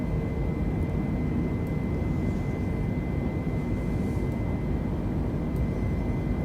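Steady airliner engine drone inside the cabin in Microsoft Flight Simulator, a heavy jet on a flight from Agua de Pena to Pico, holding an even, continuous low roar with a faint tonal whine throughout and no talk.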